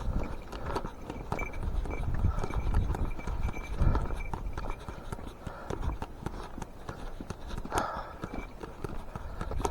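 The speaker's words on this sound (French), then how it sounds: "Tu crois que Titane, il a pas assez de la charrette?" A horse pulling a cart clops along with steady, fairly close hoofbeats over a rolling rumble of wheels and road noise, while people talk at times.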